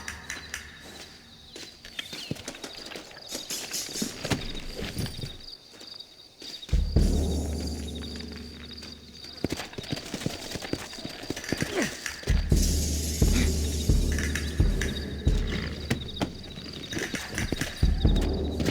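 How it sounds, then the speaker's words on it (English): Horses walk in Red Dead Redemption, set in Mexico, their hooves clip-clopping steadily amid loud game ambience, with a brief quiet gap and several sharp louder bursts around them. "Looks like Carlos left us some horses."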